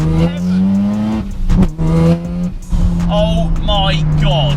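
A turbocharged Mazda RX-7 FD rotary engine, about 410 bhp with a straight-through exhaust, screams up through the gears toward an 8,000 RPM redline, dipping briefly between shifts, loud and close.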